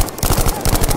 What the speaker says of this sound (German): ich hab zwei Schüsse auf ihn geschossen